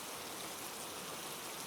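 Steady rain falls as a dense, even, broadband hiss, continuous and fairly loud throughout with no voices.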